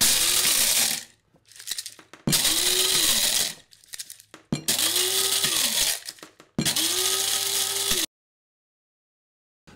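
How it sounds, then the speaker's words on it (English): A blade coffee grinder whirring through coffee beans in four loud, close bursts of about one to two seconds each, its pitch rising as the beans break down, with short rattling pauses between bursts and silence at the end. "So coffee in, and then as you're grinding"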